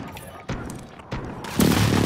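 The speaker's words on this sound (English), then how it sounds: "Airstrike" Airstrike explosions in Call of Duty: Modern Warfare, a few dull booms landing in sequence, growing heavier toward the end into a sustained loud rumble.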